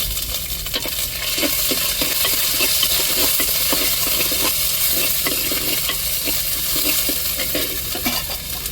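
Ground ginger-garlic paste frying and sizzling in a pan for a crab curry, with a steady bright hiss throughout and repeated light metallic scrapes and taps of a spoon stirring against the pan.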